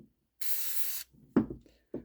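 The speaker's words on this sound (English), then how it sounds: "take that magic liquid film and just spray a little bit inside the little housings here" A short aerosol burst of lubricant film sprayed into shock absorber bushing housings during a Skyjacker Black Max shock assembly, one steady hiss of about half a second, close up, followed by a few soft handling knocks.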